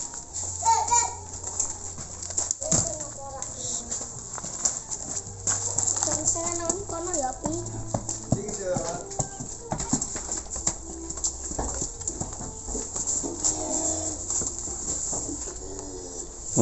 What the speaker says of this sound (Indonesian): Mari seperti apa kita ikuti proses masuknya sapi ke kandang Pak D Japaren.